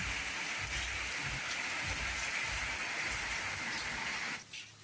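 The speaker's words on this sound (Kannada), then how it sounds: "ಸುಮಾರು 15 ನಿಮಿಷದಿಂದ ಬರ್ತಾನೆ ಇದೆ, ಹೀಗೆ ಬರಬೇಕು ಮಳೆ." Steady, dense rainfall patters down continuously at close range, a constant wash of drops that thins out briefly near the end.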